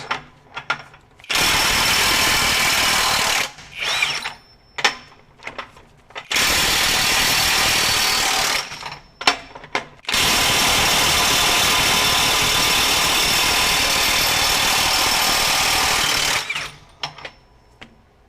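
Hercules HCB85B 20V brushless impact wrench hammering bolts tight at a 500 foot-pound setting, in three loud, sustained bursts of rattling impacts separated by short pauses, with no talking.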